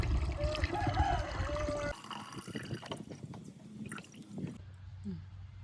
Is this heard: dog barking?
no